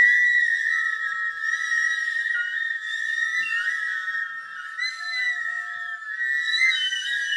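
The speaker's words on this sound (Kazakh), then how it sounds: "ұзақ дыбысты демалмай сыбызғымен үрлейміз" A long sustained note is blown on a sybyzgy flute in a kindergarten music lesson: a steady, clear, breathy tone held for several seconds without a break, loud and close.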